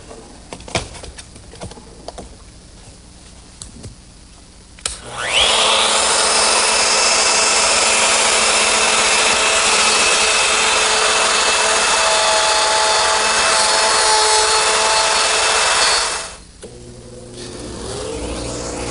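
A router fitted with a collar and a 1/2-inch straight cutter spins up loud and close, then whines steadily for about eleven seconds as it cuts a mortise in wood before winding down.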